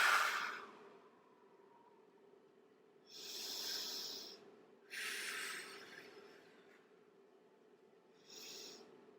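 Forceful breathing during a grounding yoga session, with three distinct breathy blows spaced a few seconds apart, heard close and alone in a quiet room.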